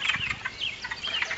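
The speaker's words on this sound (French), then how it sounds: "C'est le son des grenouilles des bois." A steady chorus of clucking, duck-like calls from wood frogs at a forest pond in spring, overlapping and continuous, heard from a moderate distance.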